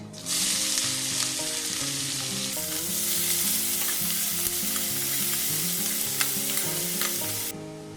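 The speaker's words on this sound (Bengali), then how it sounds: "ভাজা হয়ে গেছে এবার আমি দিয়ে দিচ্ছি পেঁয়াজ" Onion frying in hot oil with black cumin seeds in a pan after fish, a loud, dense, continuous sizzle that starts abruptly and cuts off near the end, with no talking.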